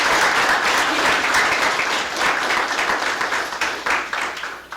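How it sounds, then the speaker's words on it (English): A large audience at a law review symposium on the freedom to marry movement breaks into loud, sustained applause, a dense wash of clapping that carries on steadily and tapers slightly toward the end. "So can we please give them a round of applause?"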